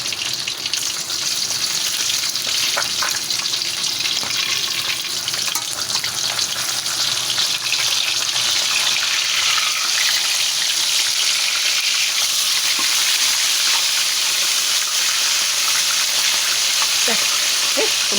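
Food fries in a pan of hot oil at home, a loud constant sizzle with bursts of spitting and splattering oil, plus occasional stirring clatter, close to the microphone.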